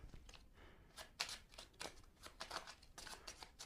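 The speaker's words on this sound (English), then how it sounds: "Give it a shuffle." A deck of HeroQuest game cards is riffled and shuffled during a tabletop game night, producing a run of quick papery flutters and snaps in close, repeated bursts at a fairly low level.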